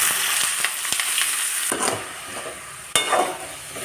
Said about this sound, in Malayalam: വെളിച്ചെണ്ണ നന്നായിട്ട് ചൂടായി. ഇതിലേക്ക് അരിഞ്ഞു വെച്ചിരിക്കുന്ന സവാള ഇട്ട് കൊടുക്കാം.